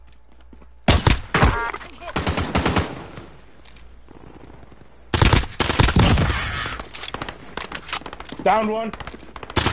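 M16 rifle fire in Warzone, two long bursts of rapid, loud shots separated by a short pause, with a voice briefly speaking among the shots.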